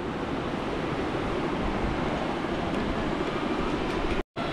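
A zipline trolley races fast along its cable at Sissu in Lahaul and Spiti, making a loud, continuous rushing rattle that cuts off abruptly near the end.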